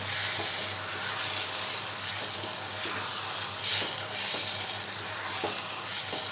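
Beef roast with curry leaves being stirred in a hot pan, a steady bright sizzle of frying with soft scraping strokes of the spoon recurring at a slow rhythm, close and continuous without talk.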